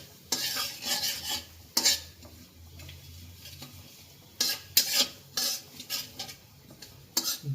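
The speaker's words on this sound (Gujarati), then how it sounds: "ઘી ગરમ થઈ ગયું છે આપણે, અને આ જીરું નાખવાનું છે જીરા રાઈસમાં" Cumin seeds and cloves sizzling in hot ghee in a large kadai, stirred with a metal spoon in bursts of scraping clatter over a low background fry.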